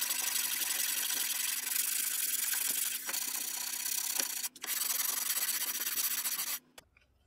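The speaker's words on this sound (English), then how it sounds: "I'll be sure to go down into the wrist with the sanding block" A sanding block is rubbed by hand over the curved wrist of a wooden military rifle stock. It makes quiet, continuous, close-up scratchy strokes with a few brief pauses, and then stops.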